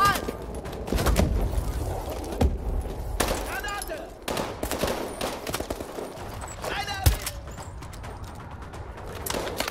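Gunfire in Call of Duty Advanced Warfare, with irregular bursts and single shots crackling through a busy combat mix while voices talk over it.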